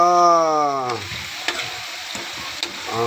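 Sweet potato fries in a pan with a dense, close sizzle and spatula stirring scrapes, bracketed by a sustained tonal whine at the start and end.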